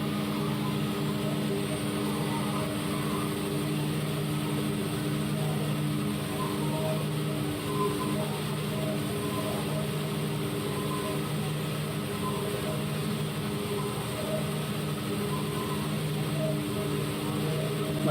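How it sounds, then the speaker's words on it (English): A diesel engine runs in a simulation game, a steady mechanical drone with constant low hum and a faint high whine, unchanging and alone throughout. "get my diesel engine started up once again."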